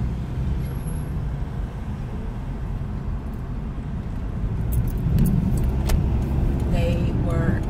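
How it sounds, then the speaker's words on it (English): Road traffic heard from inside a moving car, a steady engine and road rumble with jingling keys and a brief brake hiss toward the end, and a person speaking. "I'm trying to pay attention to the traffic"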